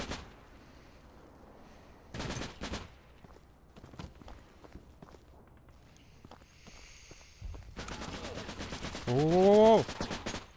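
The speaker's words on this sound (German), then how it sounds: "Voll daneben am Schießen." Gunfire in the video game United Assault Normandy 44: scattered sharp shots and short bursts across the clip, with a dense volley near the end under brief background sounds.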